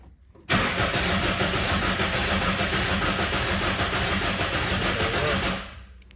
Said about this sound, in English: now since we got the car cranking